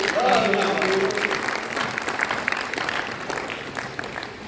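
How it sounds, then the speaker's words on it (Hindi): Audience claps at a Hindi poetry gathering (kavi sammelan), a dense crowd ovation that starts strong and gradually tapers off, with a voice briefly heard over it at the start. "अगर आप लोग मुझे ढंग से सुनना चाहते हो तो एक बार तालियां बजाकर स्टार्ट कर दीजिए।"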